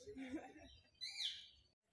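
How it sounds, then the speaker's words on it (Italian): Parrots call at a safari park in Italy, faint brief squawks and chirps heard close by in a short quiet moment. "Hanno portato i pappagalli."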